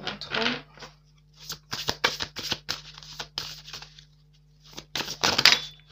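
Tarot cards shuffled by hand in short riffling bursts with pauses between them, close and fairly soft, with a low steady hum underneath.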